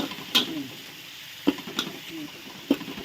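Curry paste and oyster sauce being stir-fried in a pan for a pumpkin and pork coconut curry: a soft steady sizzle broken by a few sharp clinks and scrapes of a spatula against the pan.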